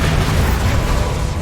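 A Bombarda blasting spell detonates in Hogwarts Legacy, giving a loud, sustained rumbling boom with dense low-end roar that fills the whole moment without letup.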